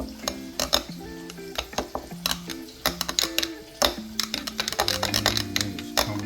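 A spoon stirs and scrapes through a mixture in a bowl, making quick irregular clicks and knocks in a close, busy rhythm, with faint tonal clinks under it and no talking.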